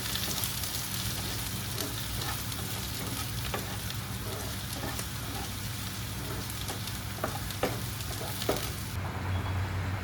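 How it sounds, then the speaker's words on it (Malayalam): Chopped shallots and green chilies fry in a pan for tomato chutney, a dense continuous sizzle with occasional scrapes and taps of stirring, close and steady throughout. "ചുവന്നുള്ളിയും പച്ചമുളകും ഇതിലേക്ക് ഇട്ട് കൊടുക്കാവുന്നതാണ് എന്നിട്ട് നന്നായി മിക്സ് ചെയ്യാം"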